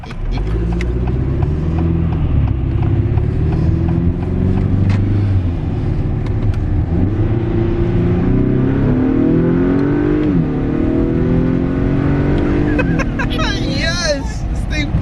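A 2021 Acura RDX A-Spec fitted with an HPS intake revs steadily up and down, close and loud, with a brief hiss near the end and voices talking over the engine.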